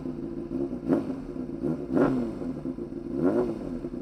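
A Honda CBR600RR motorcycle engine revs three times in quick blips over a raspy idle, each rise and fall clear and close by, with no voices.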